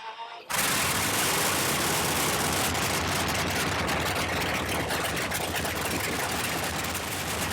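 A Halifax bomber aircraft engine under restoration at the Bomber Command Museum of Canada bursts into a loud, steady roar after a brief quiet start and keeps running without a break.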